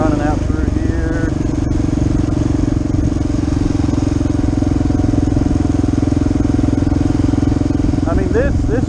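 Kawasaki KLR 650 motorcycle riding a forest trail in Croatan National Forest, North Carolina, engine droning loud and steady throughout with a rider talking over it.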